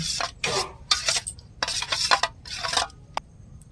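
Sauce and spices being mixed in a pan with a metal spoon, five or six bursts of scraping and rubbing strokes separated by short pauses, close and fairly loud, no talking.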